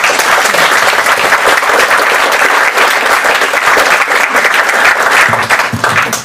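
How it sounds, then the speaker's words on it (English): An audience at an OWASP AppSec security conference applauds the keynote speaker with loud, dense, sustained clapping that fills the whole stretch and tapers slightly at the end. "Alex, let's give him a round of applause."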